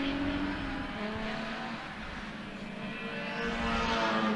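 A race car circles a racing circuit with a steady engine drone that rises and falls slightly as it passes at moderate distance, with no voices.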